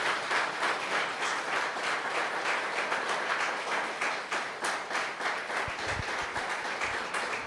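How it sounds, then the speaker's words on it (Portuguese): A church congregation gives a long, dense round of applause, a steady wash of many hands clapping at once that stays level throughout with no talk over it. "Você pode dar uma forte salva de palmas ao nosso Senhor"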